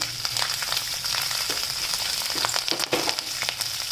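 Cumin seeds and a pinch of turmeric sizzle in hot oil, a steady close crackle with scattered sharp pops and spits over a constant hiss, no voices.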